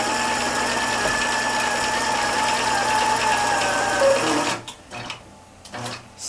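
A sewing machine stitches steadily under iQ controller drive, its motor whirring loud and even for about four seconds, then stopping abruptly as faint voices and small clicks follow.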